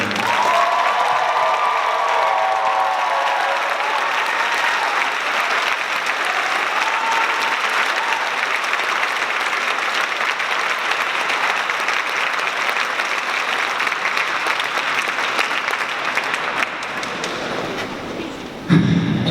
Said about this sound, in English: let's give a round of applause to my amazing and inspiring classmates for putting on this show